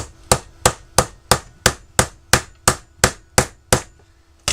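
Eleven evenly spaced hammer blows strike the heavy metal heatsink of a dimmable LED lamp, each a sharp, close, loud knock with a brief ringing decay, alone with no talk.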